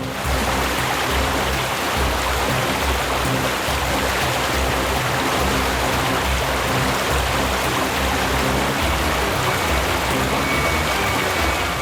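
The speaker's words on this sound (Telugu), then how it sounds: "చూసావా, వాటర్ ఫాల్స్కి వచ్చేసాం." Waterfall in a forest, a dense, steady roar of rushing water that holds constant and loud throughout with no pauses.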